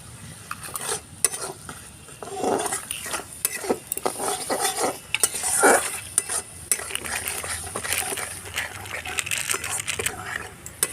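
Potato curry with added salt and sugar is stirred in a pan, giving repeated scraping and clinking of a spoon against metal over a low background sizzle, close and fairly loud.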